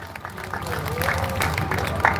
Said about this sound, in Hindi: भाई गांव राम जना की ताली बजाओ भाई